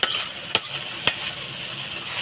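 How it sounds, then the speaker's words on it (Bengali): Fried jackfruit and potatoes are stirred in a cooking pan, with three sharp metal scrapes of a spoon against the pan over a light steady sizzle, then a fainter fourth scrape, without any talk. "এখন আমি নাড়াচাড়া দিয়ে দেবো"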